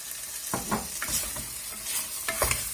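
Mutton liver fry stirred in a pan, with a steady soft sizzle broken by several scraping strokes of a spoon, close and fairly loud, no talking.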